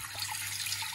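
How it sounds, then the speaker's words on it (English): Water pours steadily from a tap into a cooking pot for Jamaican chicken soup, a continuous close hiss and splash with a low hum underneath and no talk. "I'm adding my water to my pot"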